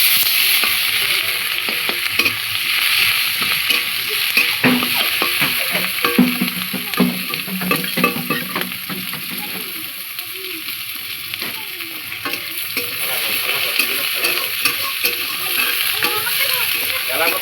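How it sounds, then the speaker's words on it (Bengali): Onions and green chillies sizzle and fry in hot tempering oil, a steady crackling hiss with occasional stirring scrapes, close and fairly loud throughout. "ফোড়নে এবার পেঁয়াজ দেব, পেঁয়াজ কাঁচা লঙ্কা দিয়ে দিলাম।"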